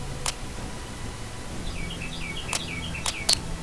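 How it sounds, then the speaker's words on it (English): A bird outside a window giving a run of short, high chirps and twittering notes over faint background noise, with a few sharper clicks scattered through. "I can hear you right outside my window, but do you have to be so loud? Dang birds."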